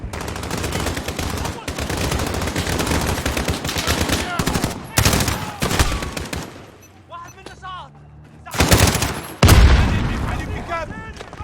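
Bursts of automatic and single gunfire with heavy booms in a Call of Duty Modern Warfare campaign mission, loud and dense, pausing briefly before more shots, with voices talking between the volleys.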